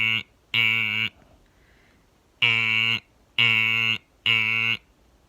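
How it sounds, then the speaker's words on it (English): School fire alarm horn blaring in loud, harsh buzzing blasts, one long blast then three more in a steady rhythm separated by short silences. "And now, the fire alarm in my school sounds like this."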